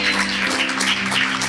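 A church congregation applauds during a Sunday service, a short, steady wash of many hands clapping together at full volume over a low hum.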